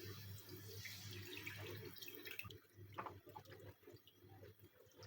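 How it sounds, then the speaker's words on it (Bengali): Reserved water trickling slowly into a pan of frying chicken kabab mixture over low heat, a faint, uneven splashing and dripping heard close by without speech. "এখন আমি যে পানিটা তুলে রেখেছিলাম সেটা আস্তে আস্তে দিয়ে দিব।"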